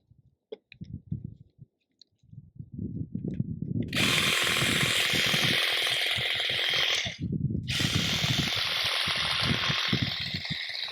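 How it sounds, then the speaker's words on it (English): A mini hedge trimmer pruning a niwaki cloud tree buzzes loudly and steadily after a few scattered clicks and rustles, cutting out briefly once before running on. "These are mini hedge trimmers. So the mini hedge trimmer does that."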